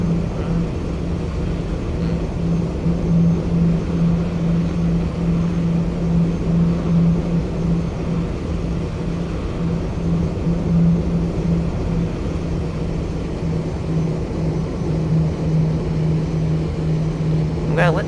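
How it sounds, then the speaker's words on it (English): A Southwest Boeing 737-800 taxis slowly in Roblox Flightline, giving a steady low engine drone with a constant hum that holds unchanged throughout. "I'm gonna let the aircraft slowly taxiing to the edge of the runway"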